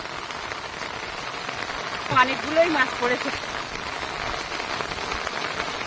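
Rain patters on open water on a wet day of fishing in the Sundarbans, a continuous soft hiss of drops with a brief murmured voice partway through.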